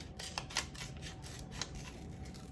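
Scissors snip through paper while cutting out storyboard pieces, a quiet run of short crisp cuts at an uneven rhythm, close and faint with no talk.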